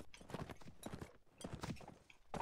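Horse hooves in the online multiplayer game Mount & Blade Warband during a castle defense make a steady, close clip-clop of quick, even hoofbeats with no talk over them.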